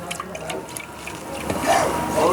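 Water streams steadily into milk in a cup while a cocoa drink is made, a continuous close splashing flow that swells slightly toward the end.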